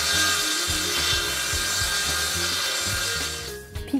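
A handsaw cuts through a wooden wall panel board in steady back-and-forth strokes, about eight rhythmic rasping passes close up, ending with a brief clatter.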